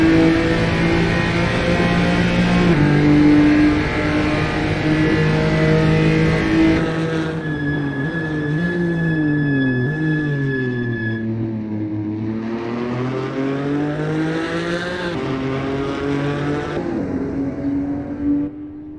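Virtual racing league cars in a sim race, engines howling loud and close with repeated rising and falling revs, a sustained wail dipping and climbing again through gear changes, no talk.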